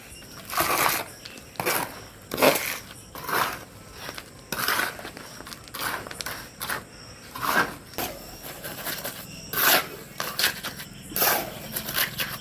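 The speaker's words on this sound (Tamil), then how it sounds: "காங்கிரீட் மிக்ஸ் பண்ணிட்டோம்" Concrete being mixed by hand in an outdoor dub setup for guppy and molly fish, heard as irregular gritty scraping and crunching strokes, close and fairly loud, repeating roughly every second with no talking.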